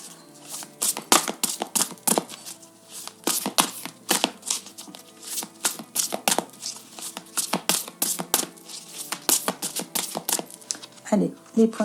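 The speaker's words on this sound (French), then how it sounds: "je vous fais le petit tirage de l'extension avec le tarot noir" Black tarot deck being shuffled and cards drawn, a steady run of crisp riffling slaps and flicks close by, with a soft papery rustle near the end.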